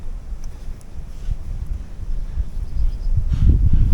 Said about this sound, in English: It's a bit windy, I don't know if you'll even hear me.